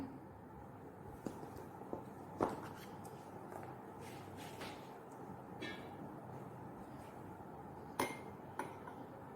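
Cocoa powder and milk are stirred in a bowl for a Red Bee cake, with faint clinks of a spoon against the dish over a soft steady background.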